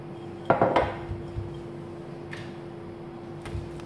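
Bread dough for stuffed meat rolls is set into a salad bowl with a couple of light clattering knocks early on, followed by near silence and a few faint taps.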